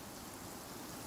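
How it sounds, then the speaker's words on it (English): Steady rain in the Genshin Impact game world, an even broadband hiss with no breaks, alone and without voices. "The sound of rain masks the enemy's footsteps."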